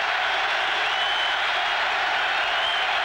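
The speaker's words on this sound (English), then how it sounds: "This big crowd still making it tough on Elway" A big stadium crowd at a 1991 AFC Championship football game in Buffalo roars steadily as a dense, continuous wash of noise with no breaks, loud and constant throughout.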